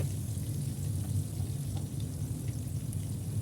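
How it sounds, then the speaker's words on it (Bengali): Eggplant and pumpkin slices fry in a pan with a steady, dense sizzle that stays even and unbroken from start to finish. "তো এখন আমি বেগুন ভাজবো এবং মিষ্টি কুমড়া"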